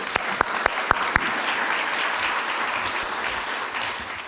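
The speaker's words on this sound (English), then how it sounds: "Can we have a warm round of applause for the Arts Center?" Warm audience applause for the Carroll Arts Center in Westminster fills the room, a dense steady wash of clapping with a few sharp, distinct claps near the start.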